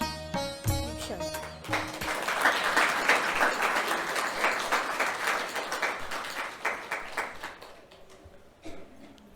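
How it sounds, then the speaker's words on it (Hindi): Audience applause after a devotional song at a Brahma Kumaris New Year 2022 celebration in Panchkula, a sustained wash of many hands clapping that builds quickly and then thins out toward the end. "खूब ज़ोरदार तालियां"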